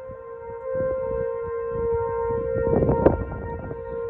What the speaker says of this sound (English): sirens just started going off.